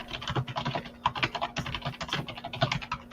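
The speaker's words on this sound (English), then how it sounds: "I'm hearing a lot of typing." Rapid, uneven clatter of computer keyboard keys being typed on, close and clear, with quick bursts of keystrokes and short pauses over a faint steady hum.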